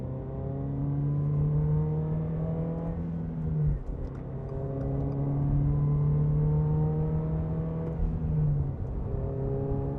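A 2024 Subaru BRZ accelerating hard inside a tunnel, its engine note climbing steadily through the gears with two sharp shift breaks, loud and reverberant with no talking.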